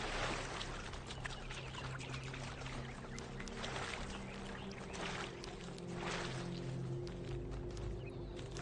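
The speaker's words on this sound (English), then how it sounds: "Ah, okay, Water." Running water flows steadily and close by in The Talos Principle II, a broad continuous wash with a low hum beneath it and no talk.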